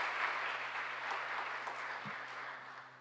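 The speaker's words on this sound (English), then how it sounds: "Please give them a round of applause as they make their way forward" Steady applause from a crowd at a Martin Luther King awards ceremony, heard faint and distant, with continuous clapping lasting a few seconds.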